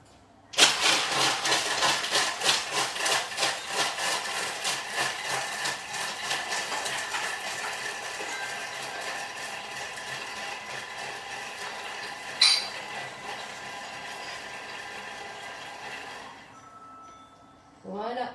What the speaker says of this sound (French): et là, on va mixer 15 secondes,